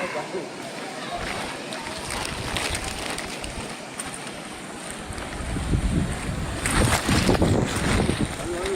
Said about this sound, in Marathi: हे पाणी खाली पडतंय आणि वाऱ्याच्या झोतानी परत वर येतं